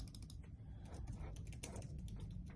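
Fingers type on a computer keyboard close by, producing quiet, quick, irregular key clicks in short bursts over a faint low background hum, with no talking.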